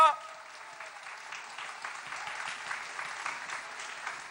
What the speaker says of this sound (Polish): brawa dla Pana Boga, dla Ojca.